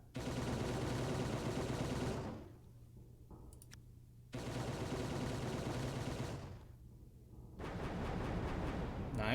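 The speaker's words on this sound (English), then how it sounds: "Get those kinetic guns up here. Fire!" Kinetic guns fire in the Final Theory space strategy game in long, loud, continuous volleys of rapid shots, two sustained bursts split by a brief quieter lull, with a third barrage starting at the end.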